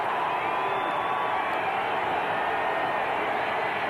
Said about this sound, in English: This may be the last play of the quarter, and the crowd responds to its defense